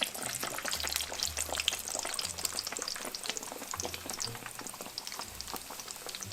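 Pieces of fried dough sizzle steadily in hot oil, a dense crackling hiss with scattered pops and faint low rumbles, close and continuous without talk.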